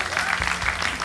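Audience applause after a stage performance at a televised talent-show gala: a dense, continuous wash of clapping that fills the brief moment, with a voice faintly mixed in.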